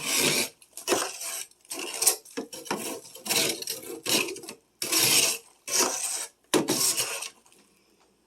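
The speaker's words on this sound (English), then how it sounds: "I need to scrape off a little more ice" Ice being scraped from the inside walls of a frosted deep freezer: repeated loud, gritty rasping strokes, roughly a dozen in an uneven rhythm with short pauses between, close and unaccompanied.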